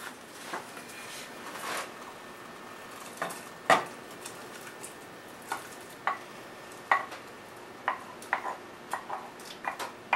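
Clams being stirred into a creamy white clam sauce in a pan, heard as sparse, clinking scrapes and taps of a utensil against the pan at an irregular pace, close and fairly quiet, with no talking.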